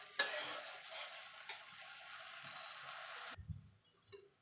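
A tomato and ginger masala is stirred in a pan for a dahi aloo dum, giving soft, steady scraping and light sizzling that stops abruptly near the end, followed by a few faint clinks.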